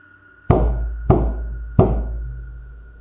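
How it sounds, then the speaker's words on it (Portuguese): Three loud, sharp knocks strike a bedroom door as a sound effect, each thud ringing briefly before the next, spaced a little over half a second apart, with a faint steady hum underneath. "alguém batia 3 vezes na porta do quarto"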